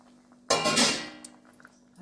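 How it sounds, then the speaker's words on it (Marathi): Hot water is poured into a pot of black-eyed bean, brinjal and potato curry as a short rushing splash of about a second that swells suddenly, then fades to near quiet. "जे गरम पाणी आहे ते आपण ह्याच्यात ओतायचं"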